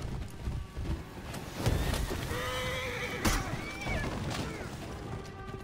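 Horse neighing and whinnying in the medieval combat game For Honor, several rising and falling calls over loud, busy battle noise with hoofbeats, clashes and a sharp impact partway through.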